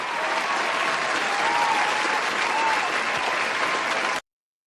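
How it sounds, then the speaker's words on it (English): Dense crowd applause rolls on steadily at a constant loud level for about four seconds, then cuts off abruptly into silence, with faint tonal traces woven through the clapping. "Little applause for you."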